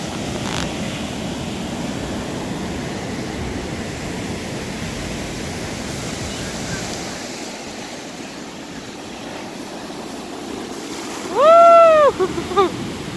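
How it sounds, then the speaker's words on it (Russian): Pacific Ocean surf rolls in at a San Diego shore as a continuous loud wash of noise, ending with a short burst of close tonal shouting or squealing over the water. "волна идет большая."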